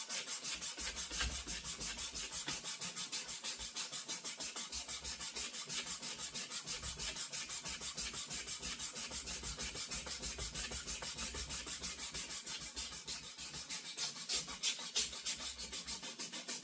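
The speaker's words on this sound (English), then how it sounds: "go ahead and hit it with some 400 grit in my sanding block here and see how smooth we can" A 400 grit sanding block is rubbed by hand in steady, rapid back-and-forth strokes, a soft, even scratchy rasp that stays close and faint throughout with no talk.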